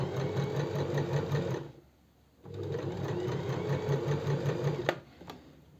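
A sewing machine set to a 2.5 stitch length hums through a cocktail dress seam in two fast, even runs split by a short pause, ending with a few clicks close by.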